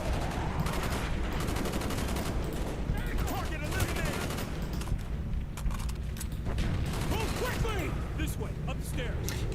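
Gunfire in the video game Black Ops 1, with dense, rapid bursts of automatic shots cracking continuously throughout, steady and loud, with voices faintly underneath.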